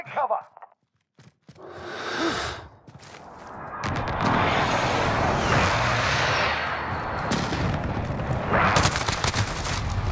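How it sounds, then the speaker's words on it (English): An enemy precision airstrike in Call of Duty: Modern Warfare multiplayer, with jet roar and heavy sustained blasts building after scattered gunshots, loud and close, ending in a fresh burst of noise. "Enemy precision airstrike. Take cover."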